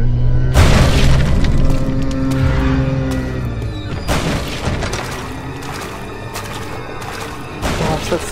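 Game sounds from the horror title Amnesia: The Dark Descent, where a monster's arrival brings a loud, low booming crash with a rumbling tail and layered eerie tones, followed by further heavy thuds and crashes in a dark, reverberant space.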